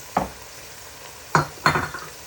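Ground crayfish is stirred in a hot pan with three short scraping strokes, one early and two close together near the end, each over a soft background sizzle.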